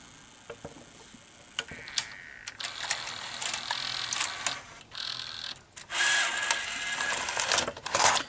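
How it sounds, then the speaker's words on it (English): Sony EV-C200 Hi8 VCR rewinding a tape at high speed, with quiet mechanical clicks and whirring that rise into a faster spinning whir toward the end, heard close up and alone. "I'll let it rewind to the beginning to show you"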